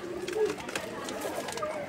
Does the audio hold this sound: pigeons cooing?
yes